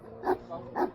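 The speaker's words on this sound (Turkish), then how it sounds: "Olması gereken çoban köpeği" An Akbaş shepherd dog gives two deep, loud barks spaced about half a second apart, close by, with a quiet pause between them.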